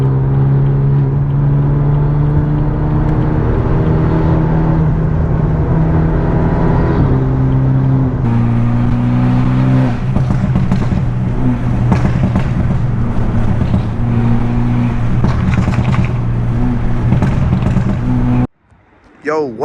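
Stage 2+ 2016 BMW 328i with straight pipe exhaust driving on a highway, a loud droning engine note rising through gears with shifts, heard from inside the car, ending abruptly.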